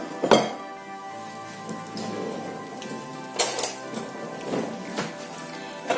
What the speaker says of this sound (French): J'ai donc mis le poulet dans la marmite